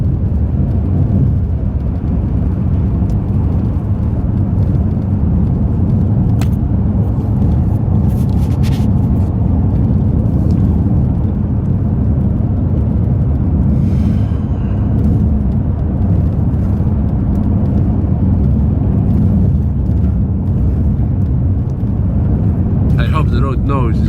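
Steady low rumble of road and engine noise inside a moving car, continuous and even throughout with no one talking and only a few faint clicks and rattles.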